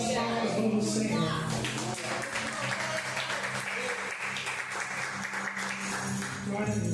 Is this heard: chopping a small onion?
no